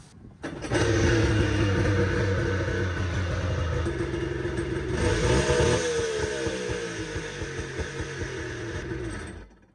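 A Yamaha GP1200R jet ski's premixed two-stroke engine catches abruptly and runs at a loud, rough, buzzing idle, rising slightly midway and holding steady until it cuts off at the end.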